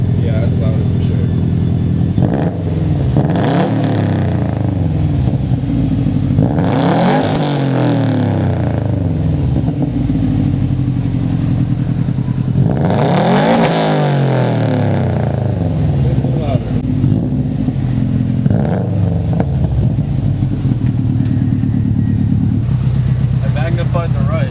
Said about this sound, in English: Like the exhaust note sounds a lot better.